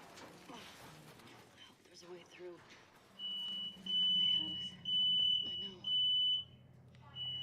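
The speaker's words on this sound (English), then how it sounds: "That is the smoke alarm of my house." A home smoke alarm sounds a run of sharp, piercing electronic beeps in a regular pulsing rhythm. Quieter talk and game sound play underneath it.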